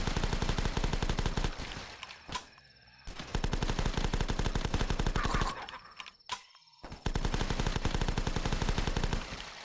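A UMP submachine gun fires in The Last Stand, a flash zombie shooter, in long rapid rattling streams of evenly spaced shots, broken by two short silences, with the steady fast rhythm resuming loud and close after each gap.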